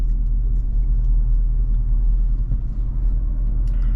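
A pickup truck's loud engine rumbles steadily while driving, a deep continuous drone with no voices.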